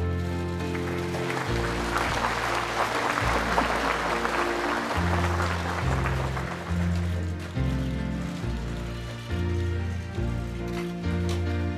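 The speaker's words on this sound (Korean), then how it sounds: "다시 한번 축하의 박수 부탁드립니다" An audience applauds an award presentation at a Constitution Day ceremony in the National Assembly, with continuous clapping blended with sustained band music.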